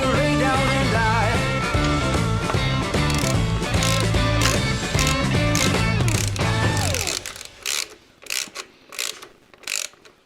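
Ratchet tightening a nut on a Harley Davidson Sportster: after loud music with singing stops, short bursts of quick, close clicking follow one after another, separated by brief pauses.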